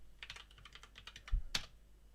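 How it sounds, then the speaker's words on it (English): A password is typed on a computer keyboard, a quick run of light, close key clicks followed by a sharper final keystroke, then quiet, with no talking. "Type in your password."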